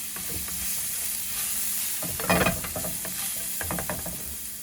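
Garlic sizzles steadily in a hot pan for pancit gisado, with a continuous close frying hiss, stirring scrapes and a brief louder rustle of stirring midway.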